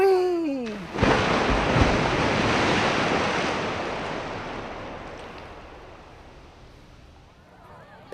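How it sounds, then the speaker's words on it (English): A big splash into water as a sound effect for a children's story, beginning with a sharp burst of crashing, surf-like water that slowly fades into a long wash over several seconds, loud and up close. "Peppa and her friends made the biggest splash ever."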